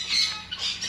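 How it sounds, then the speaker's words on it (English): Birds in an aviary give short, harsh squawks, two or three bursts close together and fairly loud, with no talk. "Makikita natin dito yung iba't ibang ibon."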